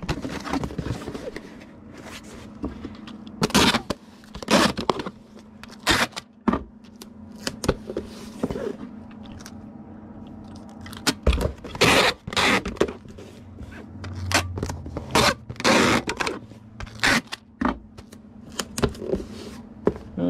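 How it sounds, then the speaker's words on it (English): An item is wrapped in a half sheet of bubble wrap, folded and rolled, giving close, irregular crinkles, rustles and plastic scrapes with sharp bursts spread over the stretch. "Need a half a sheet of bubble wrap. And then we just lay it on here, fold,"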